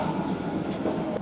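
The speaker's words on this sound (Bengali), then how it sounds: "আমাদের যে ট্রেন চলছে, ইঞ্জিন কোনো সময় পুশ করছে, কোনো সময় পুল করছে" The Darjeeling toy train on the Gayabari jungle ride rumbles steadily along, its engine pushing and pulling the carriages, a continuous close, dense rolling noise with no pauses.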